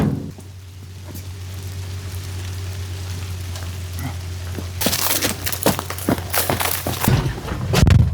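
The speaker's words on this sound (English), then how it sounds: "The rain is picking up again." Rain patters on a surface with a low steady hum beneath, the pattering growing denser and louder partway through, mixed with some crinkling.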